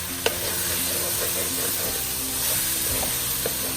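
Ginger garlic paste with chili powder and masala sautéing on a low flame for vegetable biryani, a soft continuous sizzle with occasional spoon taps and stirring.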